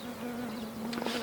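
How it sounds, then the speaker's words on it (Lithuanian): Bees buzz right against a microphone outdoors in light rain, a steady close drone with a few louder wing bumps near the end and no voices. "Mikrofone pilna bičių,"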